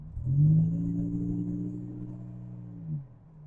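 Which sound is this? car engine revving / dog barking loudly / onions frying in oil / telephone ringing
car engine revving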